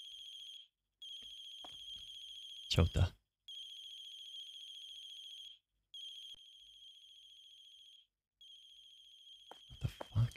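A mobile phone ringtone repeats in steady bursts with short gaps, loud and close, while someone talks briefly and handling noises and thumps occur.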